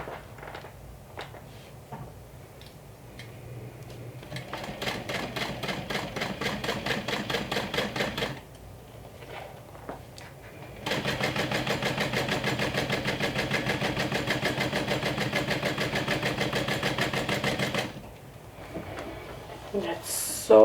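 A sewing machine top stitches a saddle bag in two sustained runs of rapid, even needle clatter separated by a short pause, fairly quiet and close by.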